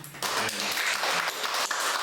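Congregation applauding during a Korean church afternoon worship service, a dense steady wash of many hands clapping at moderate distance, filling the whole moment without talk.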